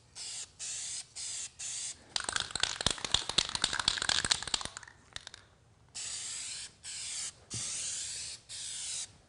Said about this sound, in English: And also give a test spray.